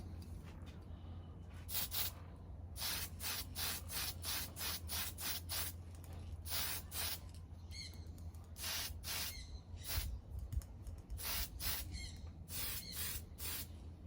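Spray can paint going onto the rear piece of a Revell 1937 Ford pickup model kit, laid on in light coats: a string of short, sharp hissing bursts with brief pauses between them, close and fairly loud over a steady low hum.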